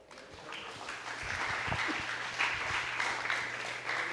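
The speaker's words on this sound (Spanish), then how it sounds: "Un aplauso al Señor." Congregation applause at a church sermon, a steady wash of many hands clapping at moderate distance, building briefly and holding without speech.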